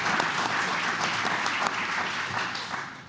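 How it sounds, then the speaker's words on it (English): A crowd at a Human Trafficking Awareness Day event in San Mateo County gives a warm, sustained round of applause, full and close, holding steady throughout with no voices over it. "I want to give them one more round of applause"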